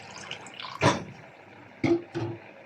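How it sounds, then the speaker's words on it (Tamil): Water is poured into a mixer jar and swished around to rinse out leftover coconut paste, making three short splashy bursts between quieter pauses, close by. "இதில் தண்ணியை ஊற்றிட்டு தண்ணியை அலசி இதில் சேர்த்துக்கிறேன்"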